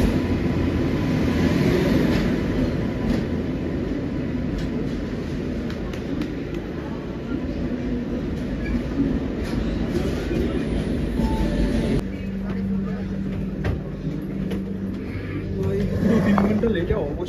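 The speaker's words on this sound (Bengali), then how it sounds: "আমাদের বিশ্ববিখ্যাত ট্রেন ঢুকে গেছে" A train rolls into the station at Kharagpur with a loud, steady rumble of wheels and carriages, then steadier tonal brake or horn sounds near the end, while people talk close by.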